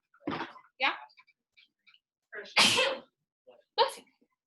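Sharp sneezes burst out in a classroom, one loud one in the middle and another near the end, alone between quiet gaps and a few short voice sounds.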